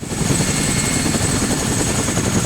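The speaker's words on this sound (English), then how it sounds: "Let's see how this helicopter behaves." An Arma 3 helicopter lifting off in Antistasi Ultimate gives a loud, steady rotor and turbine roar with a constant thrum and a high engine whine throughout, no voices over it.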